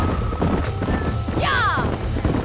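Horses in the Red Dead Redemption video game clip-clop on the ground while one lets out a short whinny midway, a close, busy mix of hooves and thuds.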